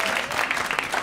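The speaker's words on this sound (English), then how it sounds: "you all deserve a round of applause for even just making it through Thanksgiving" A live audience at a comedy show breaks into brief, dense applause, a close, fairly loud burst of many hands clapping at once with no speech over it.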